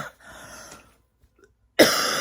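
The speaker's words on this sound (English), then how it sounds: "Maybe that's why I'm coughing." A person coughing outdoors: some rough breathy throat sounds first, a quiet pause, then a sudden loud, close cough burst near the end.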